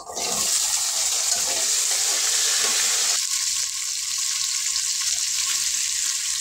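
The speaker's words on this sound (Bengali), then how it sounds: "আলুগুলোকে একটু ভেজে নেব" Potatoes fry in a pan at a village cooking fire with a continuous, even sizzle of hot oil, joined partway through by a faint steady tone.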